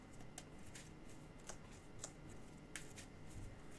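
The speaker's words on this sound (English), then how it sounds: "So now I'll shuffle my deck." Trading cards from a Dimension Police versus Dark Irregulars deck are shuffled by hand, giving soft, quiet riffling with several brief sharp clicks and flicks over a low steady background hum.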